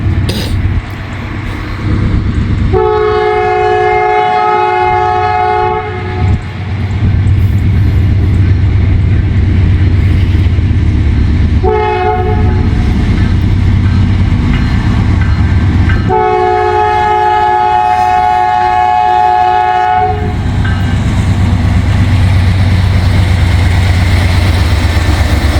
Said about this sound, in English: Listen to that horn, isn't it funky sounding?